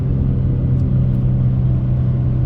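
A 2009 Infiniti G37 automatic at full throttle in manual paddle-shift mode, its engine roaring loud and steady with a low, continuous rumble as it pulls hard and drops down a gear, heard from inside the cabin.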